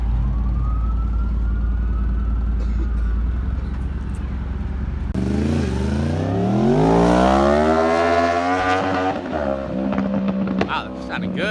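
An ambulance siren wails on a Los Angeles canyon road, its pitch sweeping up and down as it passes near and loud over steady car engine and road noise.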